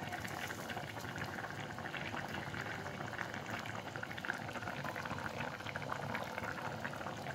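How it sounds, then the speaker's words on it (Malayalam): Fish curry (ayala mulakittathu) simmers in a pot with a continuous soft bubbling and fizzing, quiet and close, without talk. "നമ്മുടെ മീൻ കറിയൊക്കെ ഇതാ നന്നായിട്ട് തിളച്ച് വന്നിട്ടുണ്ട്"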